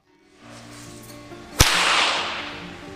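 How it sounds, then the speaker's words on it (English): A single sharp whip crack snaps out loud and close midway through, after a low hum builds, and leaves a brief hissing wash as it fades. "any object, including a plane, that generates a shock wave will sound the same. A whip, for example."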